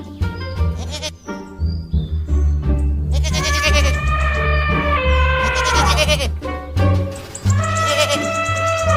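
A wooden toy truck plays goat bleats: a string of loud, wavering, nasal cries, some short and some drawn out, over a low steady hum, close and prominent.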